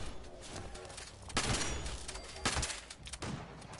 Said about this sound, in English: Oh god, there's explosions!